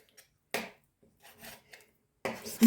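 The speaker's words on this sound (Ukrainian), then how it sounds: "М'ясо я нарізаю дрібненьким кубиком." A knife makes a few short rasping strokes cutting meat into small cubes on a cutting board, separated by brief quiet pauses.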